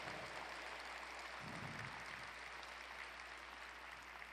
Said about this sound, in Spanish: Dale fuerte ese aplauso a Jesús